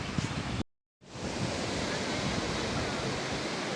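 Waves break on the shore at Maracas Beach as a loud, continuous wash of surf noise, cut by a brief silence near the start.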